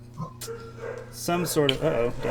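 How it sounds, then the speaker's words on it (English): Several dogs bark in the background, brief and fairly faint, under someone talking close by. "Oh, my dogs are barking."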